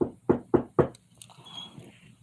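Four sharp knocks on a door land in a quick, evenly spaced run, close and loud, followed by a softer rustle of movement and faint room noise.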